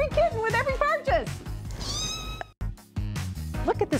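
A kitten meows several times in rising, wavering cries, its calls mixed with a person talking nearby, with a brief pause before more meowing at the end.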